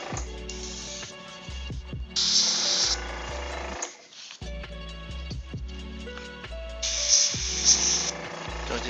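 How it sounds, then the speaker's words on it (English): Aerosol spray paint hisses over miniature figures from Ninja All Stars in two loud bursts of about a second each, with quieter spraying between them over steady background music. "So just have a little fun spraying these out."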